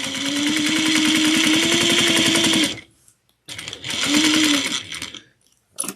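Sewing machine stitching a zipper pocket onto a tote bag with a short, tight stitch, running loud and close in a steady rapid whir, pausing briefly near the middle, then starting again for a second burst.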